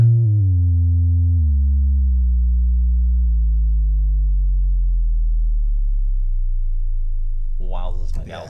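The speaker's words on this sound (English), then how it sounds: "So you're hearing a pure sine wave there." A Korg Prologue analog synth with the oscillator off, its filter self-oscillating into a pure sine tone that holds steady and slowly glides downward in pitch, loud and clean, before a brief burst of talk right at the end.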